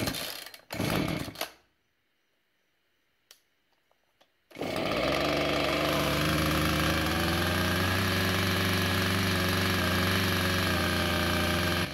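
A chainsaw engine after carburetor cleaning: a few rough bursts and brief silence, then it catches at about four seconds and runs loud and steady at a high, even buzz to the end.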